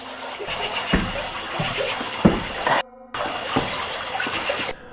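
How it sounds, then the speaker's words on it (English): Water sloshing and splashing beneath a bridge in the dark, a steady rushing wash broken by a few sharper splashy bursts and a brief moment of near silence. "soon followed by a splash of water, like something jumping at them, or else reaching up from the depths below"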